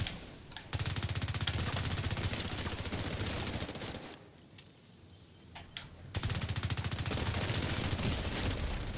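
Rapid automatic gunfire in The Division 2, long sustained bursts loud and close, broken by a short lull of quieter shots and clicks before the firing resumes.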